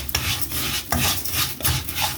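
Lisan asfour, orzo-shaped pasta, is stirred and fried in a pan: a close scraping and rasping of the utensil and grains, with three distinct stirring sweeps over a soft sizzle.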